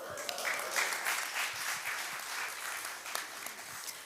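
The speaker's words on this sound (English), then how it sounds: "Give them like another really big round of applause." An audience applauds graduates, the clapping steady and continuous but fairly faint and distant, with a few sharper claps standing out near the end.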